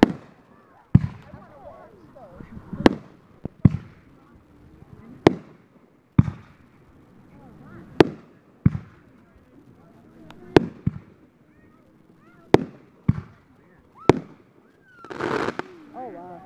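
Sharp firework bangs burst one after another at irregular intervals, some near and loud, some further off, with a crackling fizz near the end.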